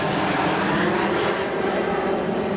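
A fixed-wing airplane drones overhead in a steady, loud, continuous rumble that holds even throughout, with no talk over it.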